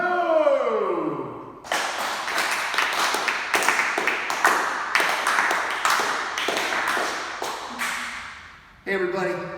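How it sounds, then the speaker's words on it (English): Applause and cheering from a live show audience welcoming the host onstage, a dense burst of many hands clapping that runs for several seconds after a spoken introduction and cuts off abruptly. "Please give a big round of applause for Joe!"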